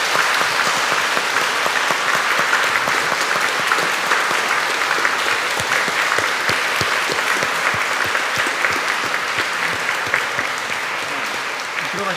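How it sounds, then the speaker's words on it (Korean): A church congregation at a Pentecost Sunday Eucharist gives newly confirmed members loud, sustained applause. Dense clapping fills the room evenly for about twelve seconds and eases slightly at the end. "오늘 견진 받으신 모든 분들을 위해서 힘찬 박수로 환영해 주시기 바랍니다"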